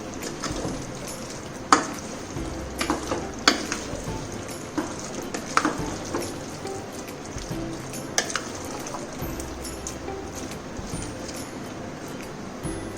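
Aviyal being stirred in a pan with coconut oil and curry leaves, giving a soft steady sizzle with scattered spoon scrapes and clicks throughout.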